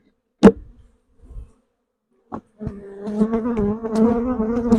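Young, just-hatched honey bees buzz in a steady, rising drone with clear pitched hum, beginning after a few brief knocks and clatters near a hive box.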